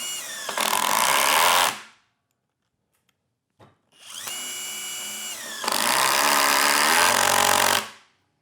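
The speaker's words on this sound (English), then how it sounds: "Did you hear the hammering action?" A Metabo SSD 18 LTX 200 BL cordless impact driver drives Spax screws in two loud close bursts of rattling hammering whine, the second longer and changing pitch, separated by a short silence.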